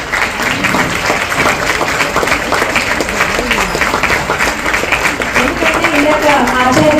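Audience applause at a concert, a Bhadrachala Ramadasa Jayanthi sankeertana gathering: loud, dense clapping that keeps going under a voice speaking over it.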